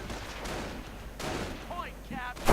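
Video game battle gunfire as Volksgrenadier troops fire on rifleman squads: bursts of shots and muffled explosions, with a commentator talking over much of it.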